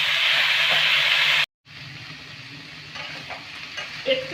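Snake gourd with salt and turmeric is stirred in a frying pan over a medium flame, a loud, dense sizzle that cuts out briefly, then returns softer with light scraping and clicks.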